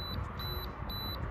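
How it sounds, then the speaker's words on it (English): A fishing reel bite alert beeps in a quick series of short, high electronic pips, faint and close over a low background hum. "once it gets a bite, that beeper will go off, so you know when you have a fish on"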